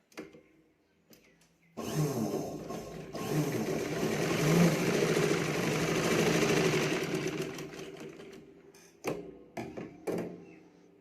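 A sewing machine runs in one long, loud burst while topstitching a folded lining on a katori blouse, its needle chattering and motor whirring. Short quieter spurts and clicks of handling come before and after, with no talk.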